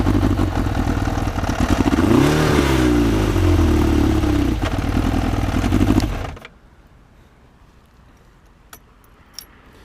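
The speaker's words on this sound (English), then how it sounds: "Gotta love that exhaust, man." A custom Yamaha XJ600S motorcycle exhaust revs loud and close for about six seconds, rising and falling through a blip, then cuts out abruptly to near silence with a few faint clicks.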